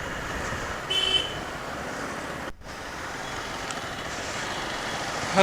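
Steady traffic rumble on a jammed single-lane road at Habra market, with a short horn toot and distant vehicle engines idling and creeping throughout.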